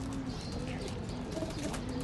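Soft, low pigeon cooing murmurs steadily through a noisy background, close by, with no voices.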